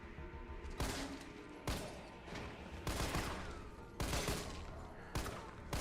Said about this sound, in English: you actually have to hold it down to make a 3-round burst